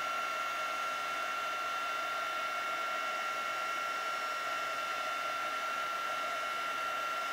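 Heat embossing tool blowing hot air onto a handmade card, a steady, even whirring hiss with a whiny tone that runs unbroken from start to finish.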